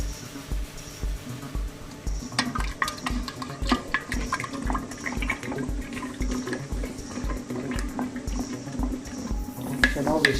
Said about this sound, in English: So let's stir the wine.